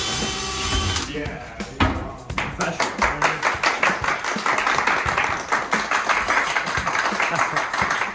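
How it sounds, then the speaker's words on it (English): A build crew gives a round of applause at a SabreCON build event, dense clapping starting after a brief tool noise and sustaining steadily, fairly close and loud, with some voices mixed in. "I think that would be the round of applause"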